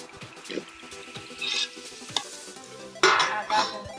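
A spoon scrapes and stirs through rice in a pot, with soft clinks and a brief louder scrape near the end, no voices.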